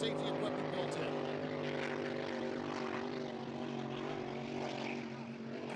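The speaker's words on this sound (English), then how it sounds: "Great sound right there out of the zoomies." Supercharged racing boat engine blasting through open zoomie exhaust pipes, a steady, loud, droning roar that holds without a break, heard from a distance.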